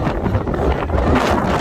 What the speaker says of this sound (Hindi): अच्छा ये कैसी हवा चल रही है?